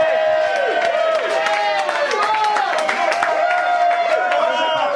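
Comedy club audience cheering and whooping for a first-time stand-up comedian taking the stage, a dense, steady crowd roar with scattered clapping and rising shouts throughout.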